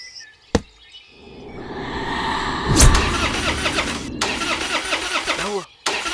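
A car engine cranks repeatedly with a rapid churning starter whir that never catches into running, loud and close, in bursts broken by short pauses and a sharp click near the start.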